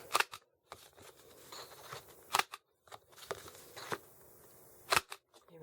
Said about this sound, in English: Let's go ahead and round the corners off using the 1/2 inch